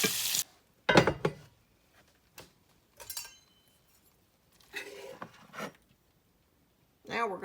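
Leftover ham frying in butter in a pan, with short bursts of sizzle and scraping stirs separated by quiet gaps, close and moderately loud.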